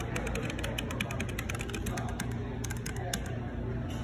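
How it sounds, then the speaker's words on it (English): A SteelSeries Apex 7 mechanical keyboard being typed on in a shop, a quick irregular run of sharp clacky keystrokes at close range, fairly quiet against the room's background noise. "Oh, this is SteelSeries keyboard. Is this the Apex? Apex 7."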